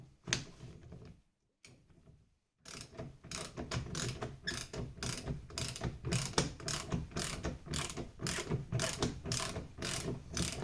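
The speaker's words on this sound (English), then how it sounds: "Now it's just a case of working both spring compressors a little bit at a time until we compress the spring to the desired length" Mechanical spring compressors are worked on an Audi A6 rear coil spring, giving a rapid run of ratcheting clicks, close and steady, after a short pause near the start.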